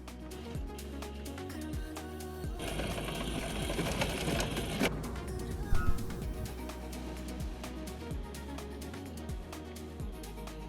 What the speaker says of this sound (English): here I'm using the remote on the app to move it onto the courts